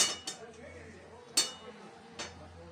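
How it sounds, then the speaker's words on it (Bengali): Amla dropped into sticky jaggery in a wok and stirred, giving a few sharp, quiet metallic clinks spaced apart over a low background hum. "এই যে আমলকিগুলো দিয়ে দিলাম, দিয়ে এবার নাড়বো ভালো করে।"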